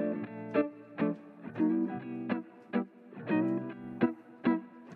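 A looped guitar texture from the Arcade plugin, with distorted, effect-laden chord stabs repeating in a steady rhythmic pattern. It is clean and close, with no voices.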